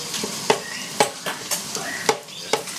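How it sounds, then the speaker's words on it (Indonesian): Onions sizzle gently in a pan while a utensil scrapes and stirs them in regular strokes, about twice per second. "Ini diaduk-aduk kak."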